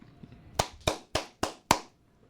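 Five slow, evenly spaced hand claps, sharp and close, ringing out alone in a quiet room after a faint murmur.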